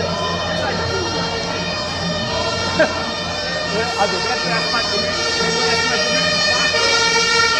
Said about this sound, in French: c'est une ambulance, ça s'écarte